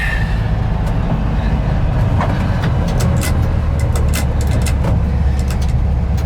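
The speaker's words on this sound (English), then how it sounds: "Going over speed bumps is always a little weird in a bus because you're forward of the axle" A 1968 VW single cab bus drives over speed bumps: a loud, constant road and engine rumble fills the cabin, with scattered rattles and sharp knocks from the body and suspension.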